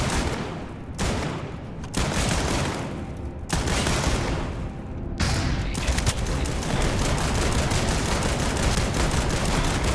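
Sustained rapid gunfire in a video game, dense loud bursts with sharp breaks between volleys, continuous and close throughout, no speech heard.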